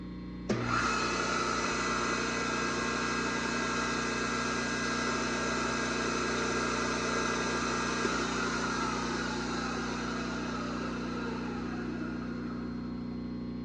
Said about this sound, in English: Motor sounds like it can use a little grease